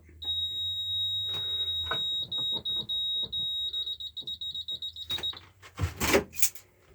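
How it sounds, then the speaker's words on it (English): A shrill electronic buzzer on a Menvier MF200 fire alarm panel beeps in a rapid, stuttering pattern, then stops; a low hum fades early and a few clicks and a louder rustle follow near the end. "Mute the buzzer."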